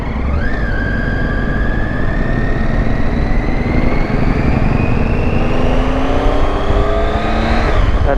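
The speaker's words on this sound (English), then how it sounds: "That's a Ducati." A Ducati motorcycle rides past on a city road on a morning ride, its loud engine note rising steadily as it nears and sweeping past close by, with no talk.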